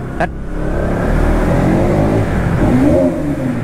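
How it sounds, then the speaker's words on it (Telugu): A motorbike engine revs hard and sustains a loud, booming roar that echoes off the walls of an enclosed mall parking area, with no talking over it. "ఈ బైక్స్తో సూపర్ బైక్ ఫీలింగ్ వచ్చేదంటే అట్లాంటి ప్లేసెస్లో ఒక్కటే. ఇంకా రీసౌండ్ వస్తుంది కదా"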